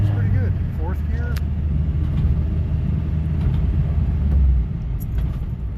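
A car pulls away and climbs through the gears, its engine a steady close rumble with rising tones early on. The car is smoking slightly and may have a heater core leak. A voice talks over it.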